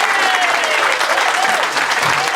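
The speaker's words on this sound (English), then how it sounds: "I appreciate that standing ovation." Audience giving a standing ovation as a county sheriff is welcomed to speak, dense continuous clapping filling the room at full volume without a break.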